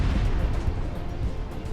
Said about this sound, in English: So this substation, I'll just go with the missile and take it out that way.